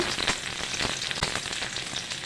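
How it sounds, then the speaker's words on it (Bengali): Onions fry in hot oil, a dense continuous sizzle and crackle close by with occasional louder pops. "পেঁয়াজ সব কিছু ভালো লাল লাল করে ভেজে নেব"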